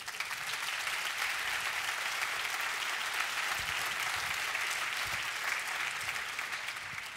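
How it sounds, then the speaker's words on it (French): Steady, sustained applause from the audience at a student lawyers' pleading contest at the Mémorial de Caen, honouring Emmanuel Chaunu; an even, moderately quiet wash of clapping lasting the full stretch without letup. "Je vous propose d'applaudir Emmanuel Chaunu."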